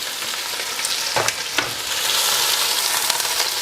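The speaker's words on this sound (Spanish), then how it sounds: "Ya tenemos el aceite caliente, entonces echamos la cebolla" Chopped onion and whole garlic cloves fry in hot oil, giving a steady close sizzle with a couple of soft clicks, growing slightly louder and denser toward the end with no voices.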